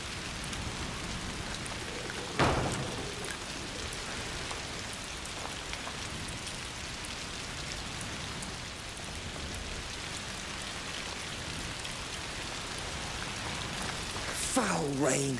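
Steady rain in the game A Plague Tale: Requiem, a constant hiss of drops on surfaces throughout, broken by a sharp knock early on and a louder clattering noise near the end.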